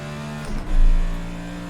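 A NASCAR Cup race car in the iRacing simulator at Daytona swells in from behind, its engine roar rising to a peak and easing off over a steady low engine drone.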